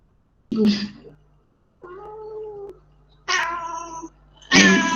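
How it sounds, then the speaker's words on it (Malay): A cat meows several times nearby in an indoor setting during an online class, with distinct harmonic calls separated by short pauses, some loud and drawn out. "Sorry, ada kucing pula kat sebelah."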